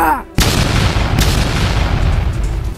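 Gunfire and explosions in an animated cat series: a sudden loud boom erupts after a shout, followed by a sustained roaring blast that stays dense and powerful to the end.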